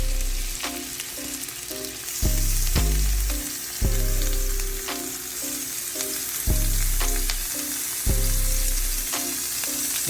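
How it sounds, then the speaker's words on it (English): Pork fries in a little oil in a cast iron pot over low heat, a steady close sizzle broken by periodic low thuds and clatter from stirring, with no voices. "we're frying this on low heat"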